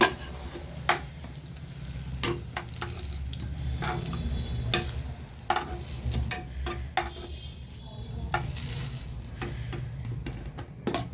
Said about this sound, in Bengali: বেগুনটা ভাজা হয়ে গেছে তো আমি এবারে তুলে নেবো বেগুনটা